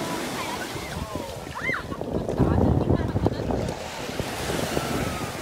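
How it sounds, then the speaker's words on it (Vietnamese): Mediterranean sea waves wash over a pebble beach in a steady, rushing surf with some wind buffeting, while people's voices chatter nearby. "Ở đây rất là biển, rất là nhiều sỏi ha."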